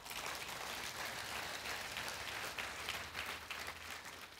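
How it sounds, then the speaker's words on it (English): A church audience applauding during a sermon, a steady, fairly faint wash of many hands clapping heard from a distance, sustained evenly for several seconds without talk. "Go ahead and clap."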